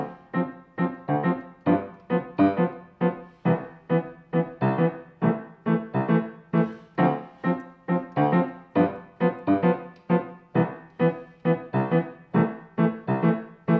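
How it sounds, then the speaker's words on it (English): A piano plays a steady, bouncy jazz warm-up exercise of evenly spaced chords, repeating measure after measure in a lively practice-style rhythm. "That concludes our little jazz warm-up exercise."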